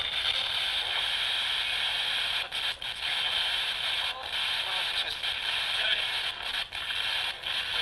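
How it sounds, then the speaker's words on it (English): A ghost box radio sweeping through stations makes a continuous loud hiss of white noise, broken by brief dropouts and fleeting snippets of stations as it scans. "You're going to hear radio station snippets, white noise."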